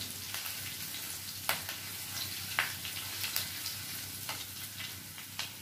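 Curry leaves sizzling in hot oil for sabudana khichdi, a steady close crackling fry with sharp pops and spits scattered throughout, no voices.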